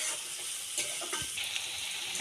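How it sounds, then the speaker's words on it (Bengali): Chopped onions and slit green chillies fry in white cooking oil with a soft, continuous sizzle, a few light stirring sounds rising over it. "পেঁয়াজটা আমি হালকা করে ভেজে দিয়েছি।"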